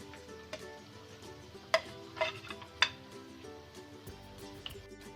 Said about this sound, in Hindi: ये देखें हमारी फ़िश फ्राई होगी।